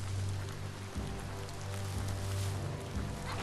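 Steady rain pattering on surfaces in the video game Biomutant, a soft continuous wash beneath a low droning hum, with no voices.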